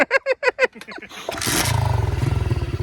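A pit bike dirt bike engine fitted with a big carburetor and stock exhaust, sputtering to life after a few kick attempts and then idling loud and close with a fast, even chuffing pulse.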